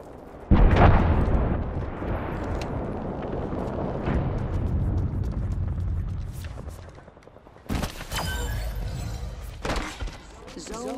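A frag grenade in Apex Legends on PS4 Pro goes off with a sudden loud, close blast that rolls into a long rumbling tail. Crackling combat noise continues, and a second sharp burst follows later amid game voices.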